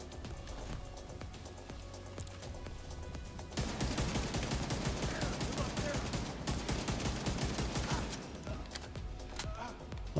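Rifle in The Division 2 emptying nearly a whole magazine, a sustained rapid stream of gunshots that starts after a quieter stretch of game ambience and keeps firing loudly to the end.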